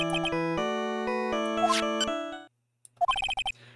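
Ringtone from a phone in the Phoenix Wright courtroom game: a bright electronic melody of stacked tones plays for about two and a half seconds, then after a short pause a quicker burst of rising chime notes follows.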